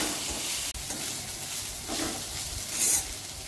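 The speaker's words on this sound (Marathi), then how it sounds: "मीठ आपण ठेचलेली भेंडी टाकूया आणि परतून घेऊ" Crushed okra sautés in a pan with salt, giving a steady, close frying sizzle and soft stirring scrapes throughout.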